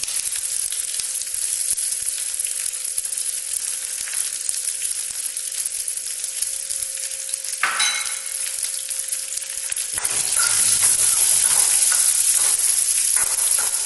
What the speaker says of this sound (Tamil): இந்த வெங்காயம் வந்து அப்படியே பொன்னிறம் வர நம்ம ஃப்ரை பண்ணலாம்